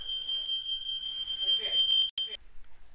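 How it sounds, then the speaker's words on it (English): A fire alarm sounds in a room as a steady high-pitched electronic tone that runs for about two seconds, cuts off briefly, then returns once more, with faint background noise. "Yeah, you did hear the fire alarm go out."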